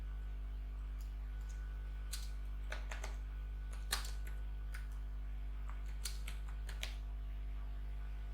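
Keys tap on a computer keyboard in sparse, irregular bursts of light clicks over a steady low electrical hum, faint and close, with no talk.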